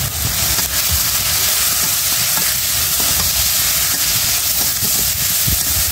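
Fish stirred into a carambola (star fruit) chorchori fizzes in a hot pan. A loud, steady sizzle and hiss runs throughout, broken by soft scraping knocks from the stirring.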